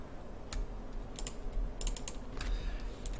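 Computer keyboard keys pressed for shortcuts while modeling in Maya 2019: a few sharp, separate clicks, then a quick cluster of taps, close and crisp over a quiet room hum, with no voice.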